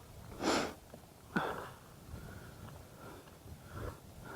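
A person cold and wet outdoors on a rainy day sniffles a few times, one sharp sniff near the start and another after a pause, with fainter breathy snorts later, close and fairly quiet.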